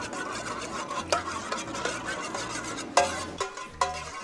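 Noodles seasoned with soy sauce, pepper and salt are stirred in a pan, giving soft scraping and clinking with a few sharper knocks against the cookware, under a low hum.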